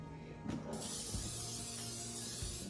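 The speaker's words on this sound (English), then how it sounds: "now I'm gonna spray my pan with cooking spray" A steady hiss of cooking spray sprayed onto a pan, with a brief burst near the start, continuing evenly over a low background hum.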